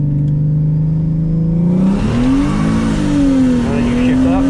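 A Mercedes SLK32 AMG engine with paddle shifters revs, its pitch climbing, dipping and rising again across a gear change, close and loud, with someone talking over it.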